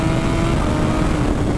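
A 2019 BMW S1000RR sport motorcycle runs under way with a loud, dense engine roar, heard up close over a brief stretch.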